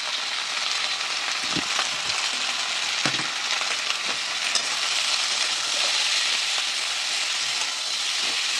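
Garlic paste, turmeric and salt are stirred into flat beans frying in a pan for a whole flat bean chorchori: a steady, close sizzling hiss with a few soft stirring scrapes and knocks.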